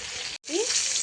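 Fish shallow-frying in a pan until crispy, a steady bright sizzle that drops out for a moment and resumes, with a brief faint voice-like tone under the frying.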